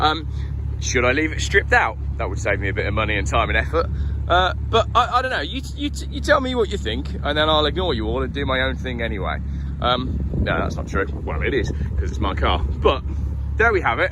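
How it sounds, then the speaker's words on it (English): Continuous low rumble of traffic from a nearby main road runs steadily beneath someone talking close up about his Volvo 850 T5, with a deep hum throughout. "I must apologise for the noise today, because I'm by the main road."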